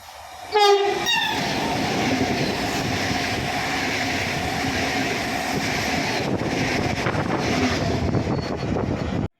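An ED250 electric passenger train passes a station: a brief horn blast near the start, then a loud, steady roar of the train rolling by close at hand with faint wheel clatter, no talking.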